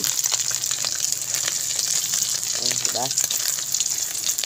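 Dried fish (tuyo) frying in oil, a steady bright hiss and crackle of sizzling throughout, with a brief voice speaking over it near the middle.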